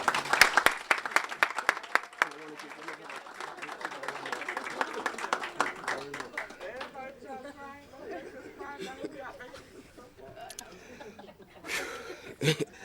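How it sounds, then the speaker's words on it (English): A graduation ceremony audience claps in a short burst of applause, then crowd chatter and scattered laughter carry on at moderate volume. "And everybody give them a round of applause."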